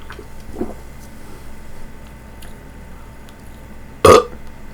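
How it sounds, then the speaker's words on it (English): A single loud belch from someone drinking Coca-Cola, short and close, rising out of quiet room noise near the end. "Excuse me with the loud belching."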